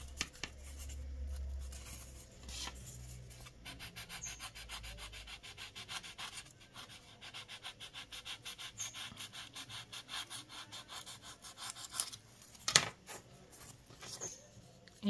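Scraping and rubbing as excess is trimmed off a polymer clay biscuit figure of a Disney-Pixar character, with soft, close, irregular scratchy strokes and a few sharper clicks.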